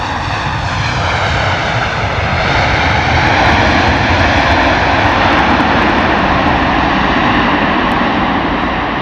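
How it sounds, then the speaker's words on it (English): An American Airlines Boeing Dreamliner at London Heathrow in wet, windy weather roars loudly and steadily for the whole stretch, a broad, continuous jet engine rumble with a slowly shifting whine and no talk. "Mega sound from that American Airlines Dreamliner."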